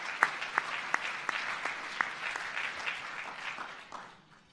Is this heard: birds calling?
no